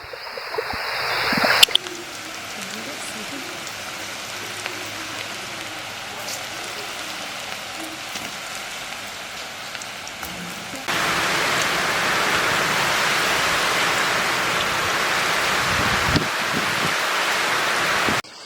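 Heavy rain pours down outdoors while pakoda fries, a steady dense hiss that grows louder and fuller partway through, with no talking.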